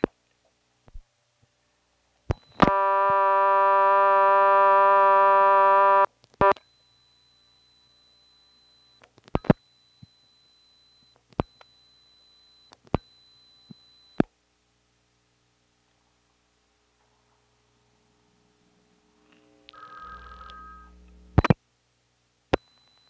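Dialing 2211 into an XY step-by-step telephone exchange from 1977, heard as a steady buzzing tone followed by sparse sharp clicks of relays stepping. A short burst of ringback and a final loud click close it.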